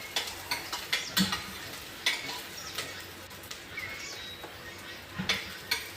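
Onions frying in a pan for a mutton curry, soft sizzling under a steady series of spatula scrapes and taps, fairly quiet and close, with no voices.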